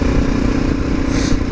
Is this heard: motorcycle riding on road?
yes